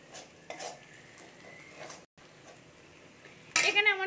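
Garlic frying in a pan for a small-shrimp (kucho chingri) dish, with a low steady sizzle and scattered clinks and scrapes of a utensil stirring against the pan, ending in a louder clatter.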